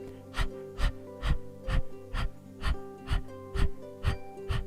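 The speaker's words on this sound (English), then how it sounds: "Keep panting" Quick yoga pranayama panting breaths in a steady rhythm, about two per second, close and distinct over a faint sustained background tone.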